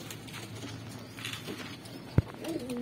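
Fancy pigeons kept for sale coo softly at close range, a low murmuring burble with one sharp knock partway through.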